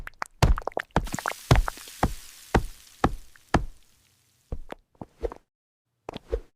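Sharp knocks of a mould of tempered chocolate being tapped to knock the air out, struck on a hard surface. The knocks come in a quick, irregular series, close and crisp, with short pauses between them and no talk.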